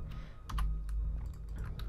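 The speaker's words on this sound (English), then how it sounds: "hopefully you guys don't hear my keyboard" Someone types on a clicky PC keyboard while playing Minecraft. Quick irregular keystrokes clatter close to the microphone over a low background hum.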